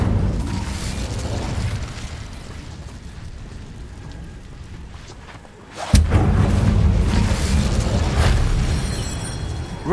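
Hogwarts Legacy Incendio fire spell cast in-game: a rumbling, roaring wash of fiery noise that drops off, then erupts in a sudden sharp boom followed by a sustained loud crackling blaze.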